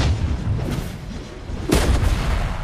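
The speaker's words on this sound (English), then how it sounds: "Our turret has been destroyed." An explosive boom marks a turret being destroyed in the video game Mobile Legends Bang Bang, with a low rumbling blast near the start and a sharper second impact later in the short stretch.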